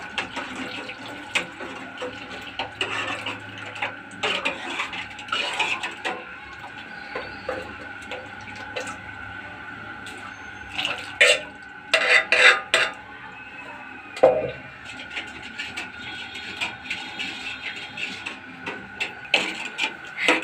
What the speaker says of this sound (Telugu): ఉండలు కట్టకుండా కలుపుతా ఉండాలి